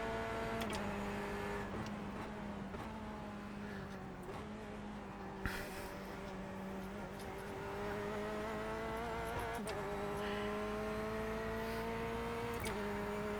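Corvette C8.R race car engine droning steadily through a lap in the iRacing simulator, its pitch rising and dropping with gear changes, a continuous moderate in-car engine tone with no talking.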